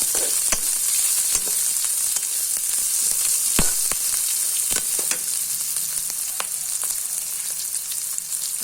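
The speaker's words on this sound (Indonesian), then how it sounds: "masukkan cabai rawit, cabai merah, dan cabai keriting hijau. Aduk-aduk sampai rata." Fresh bird's eye, red and curly green chilies sizzle steadily in a hot pan, with a bright continuous fry hiss broken by sharp clicks and scrapes as a spatula stirs them through, no voices.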